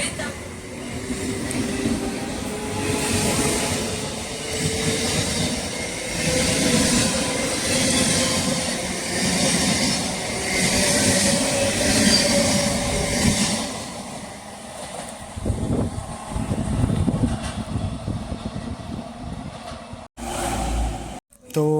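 A passenger train rumbles steadily nearby as it pulls away from Khirai station, West Bengal, the drone fading over time, with some background chatter and a few abrupt knocks near the end.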